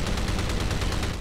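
A rapid burst of aircraft machine gun fire in a Pacific air combat video game, dense evenly spaced shots rattling loudly for about a second.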